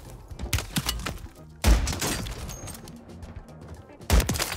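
Gunfire in the Warzone 3 video game: a few sharp shots ring out at intervals, near and loud, with game ambience between them.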